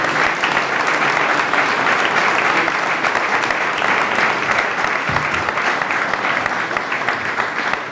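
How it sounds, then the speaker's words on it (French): Sustained, loud audience applause fills a hall at an inauguration in Caudry, a dense steady clatter of many hands lasting throughout without pause. "je pense qu'on pourrait l'applaudir aussi"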